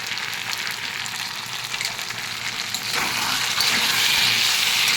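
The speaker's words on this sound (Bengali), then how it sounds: "এবার ভালো করে তাকে কষতে হবে।" Kashmiri chilli powder, turmeric, cumin powder and asafoetida frying in oil for aloo dum, a steady close sizzle that swells louder in the second half with no talk.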